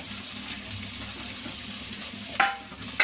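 Capsicum and green chillies fry in hot oil for veg manchurian, a steady close sizzle with a short sharp stirring clatter near the end.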